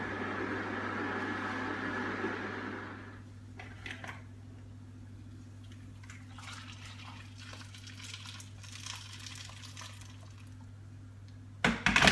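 Potatoes simmer in a pan of boiling water on a stove, bubbling and splashing, with a steady low hum beneath and a few clinks and knocks of utensils, ending in a brief clatter.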